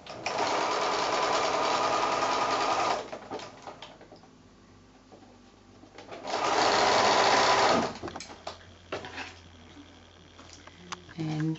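A sewing machine stitches a quilt block seam in two loud, steady bursts of fast whirring, each about two to three seconds long, with quieter handling between them and a voice speaking.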